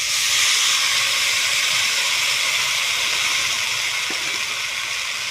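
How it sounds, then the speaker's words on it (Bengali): Water poured into a hot pan of lightly fried vegetables tempered with five-spice, for a gourd-leaf chorchori, gives a loud, continuous steam hiss that fades only slightly over several seconds, with no voices. "এবার ওগুলো একটু ভাজা হয়ে গেল, একটু জল দিয়ে দিচ্ছি"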